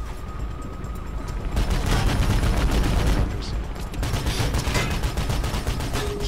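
Helicopter gunfire in the video game Mirror's Edge roars in dense, rapid bursts that run almost without a break, loud and close, with short dips between volleys.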